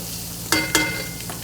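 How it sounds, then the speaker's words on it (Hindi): Pre-fried chicken pieces going into well-browned masala in a hot pan, with two sharp bursts of sizzling and a stir over a steady frying hiss, no talking. "अब ये चिकन जो भून के रखी हुई थी वो डाल दी है"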